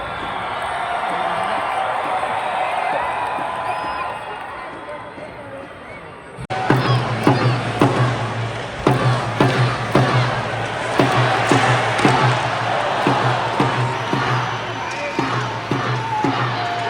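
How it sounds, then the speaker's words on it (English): Hockey crowd at a Vancouver Canucks home game, a broad, sustained roar of many voices filling the arena for several seconds, then cutting to a busier stretch of rhythmic thuds and clatter under continuing crowd noise. "The crowd is booing their team."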